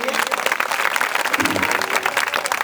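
An audience at an Urs fair in Topkhana Bazar, Cantt, Lucknow, applauds steadily, a continuous wash of many hands clapping close by and at an even level throughout.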